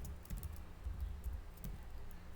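Someone types a Docker command on a computer keyboard, giving a quiet, close run of irregular key clicks that ends with a press of the enter key, with no talking.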